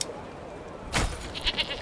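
Goats bleat in the medieval strategy game Manor Lords, one short bleat about midway followed by a couple of fainter calls over a quiet ambient bed.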